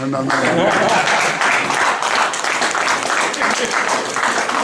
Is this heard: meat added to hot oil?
no